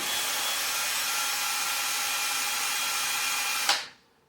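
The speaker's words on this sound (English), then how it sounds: "I'm going to see if I can attack it with just a buffing wheel and a little bit of compound" Buffing wheel with polishing compound running against rusty chrome on a mid-school Royce Union BMX bicycle: a steady, loud, broadband whirring grind held for nearly four seconds, then spinning down quickly to quiet.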